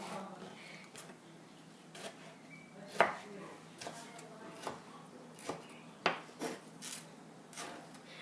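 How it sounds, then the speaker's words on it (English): A knife dicing tomato slices into small pinky-sized pieces on a board, heard as irregular close taps and soft scraping at a steady working pace, with no talk. "Then you cut the tomato into small dices as big as your pinky."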